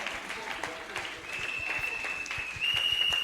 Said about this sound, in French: Acclamons très très fort.